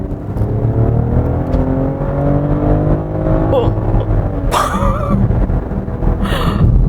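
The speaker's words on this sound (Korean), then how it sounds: "스포츠 모드로 바꿨으니까 저속에서 고속으로 풀악셀!" Six-cylinder BMW X5 50e pulling at full throttle in sport mode from low to high speed, its engine note climbing steadily in pitch with a sustained, rising drone, broken by a couple of short breathy vocal bursts near the end.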